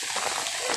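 Heavy rain falls steadily in a rural province, a dense hiss of drops drumming on surfaces and leaves, loud and continuous with no voices.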